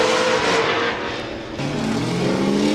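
A BMW drift car at Formula Drift Grantsville roars continuously with a loud, strained engine note. It dips briefly in the middle, then climbs again with rising revs, with no talking.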